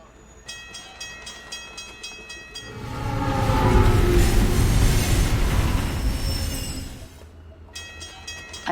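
A train in the video game Alpha Protocol rumbles past, swelling from quiet to a loud, close roar with squealing wheels over a few seconds and then fading, with a steady game tone running underneath.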